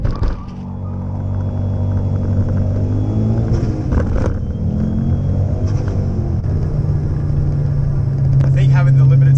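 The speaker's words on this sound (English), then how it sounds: "So let's see how it launches without traction control." A 2008 Ford Focus XR5 Turbo fitted with a Quaife limited-slip differential launches hard with traction control off, its engine a loud, sustained rumble that climbs in pitch under overlapping speech.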